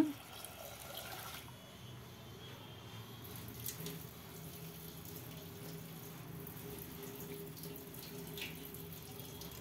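Tap water runs steadily into a sink with soft splashing as toor dal is rinsed under the stream, continuous and close.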